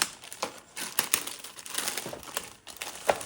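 Close crinkling and rustling of a plastic bag being handled, irregular crackles over a few seconds with no speech.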